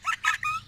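Birds chirp outdoors in Marrakech, a few short, bright calls in quick succession, fairly close and clear over a quiet background.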